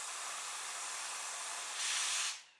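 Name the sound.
compressed air assist hissing on a diode laser cutter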